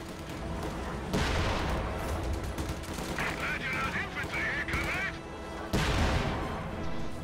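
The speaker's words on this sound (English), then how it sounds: "Sherman trying to fire at that AT gun through the hedge" A Sherman tank fires at an anti-tank gun through a hedge in a video game match. Loud cannon blasts and rattling gunfire sound over a constant battle din, with two heavy booms standing out.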